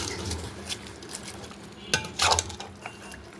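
A spoon mixes onions with oil and ghee in a warm pot, with soft scraping and stirring, then a couple of brighter clinks of metal against the pot near the end.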